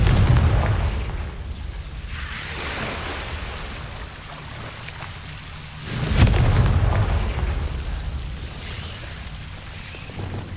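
A Confringo fire-blast spell erupts in Hogwarts Legacy, a booming blast swelling abruptly out of low rumbling ambience and slowly fading.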